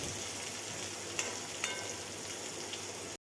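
Onions frying in oil in a pan, cooked until golden brown for a spiced sprouted moong dish; a steady, soft sizzle with a couple of brief clicks, close and alone with no talk.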